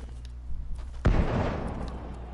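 A cannon in a video game fires once with a sudden heavy boom, then a rushing decay that trails off over the following second.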